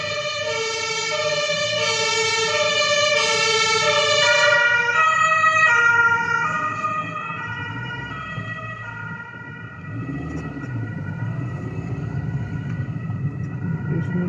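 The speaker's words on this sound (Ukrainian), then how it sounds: "скоро помощь летить" An ambulance siren wails loudly as the vehicle passes close by on a city street, its rising and falling tone shifting pitch and fading as it goes, with road traffic rumbling underneath.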